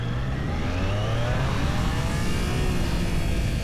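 A 2025 Triumph Trident 660 motorcycle, quick shifter switched off during its break-in period, accelerates with a steady, loud engine drone whose pitch climbs as it revs, heard alone without talk.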